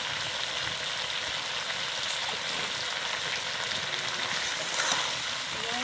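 Chicken with chili powder sautéing in a pan, a continuous close sizzle and hiss with faint stirring underneath, steady in level and without talk.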